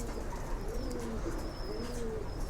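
Pigeons coo steadily in their loft, their low, rolling calls overlapping continuously against a constant hum of background noise, with no talking.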